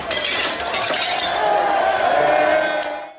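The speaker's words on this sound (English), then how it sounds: "there were cheers as glass was shattered" Glass shattering at a night-time street protest: a loud, sharp burst of breaking glass followed by scattered tinkling fragments, sustained for about three seconds before stopping abruptly.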